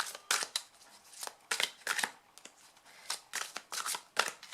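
Tarot cards are handled and drawn close up, giving a string of soft, quick papery swipes and flicks in irregular bursts, fairly faint with no talking.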